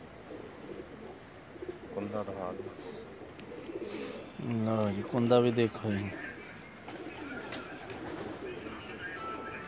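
Pakistani pigeons on a rooftop loft in Jeddah, Saudi Arabia, soft cooing close by beneath someone talking through much of the time.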